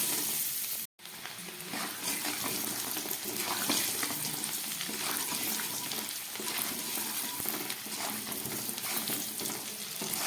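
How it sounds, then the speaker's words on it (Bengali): Potatoes with turmeric frying in hot oil, a dense continuous sizzle and crackle that runs steadily after a brief cut near the start, close and even. "খুব ভালো করে আমি আলুটাকে এবার ভেজে নেব"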